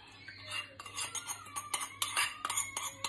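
A utensil scrapes oil and sauce around a pan in quick, repeated strokes, each scrape a bright metallic rasp, close and fairly quiet over a low background hum.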